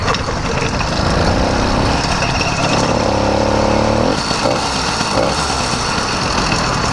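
A motorized bicycle fitted with a YD100 engine runs loud and close, its buzzy two-stroke-style note holding steady with a brief rising tone change midway, and no talking.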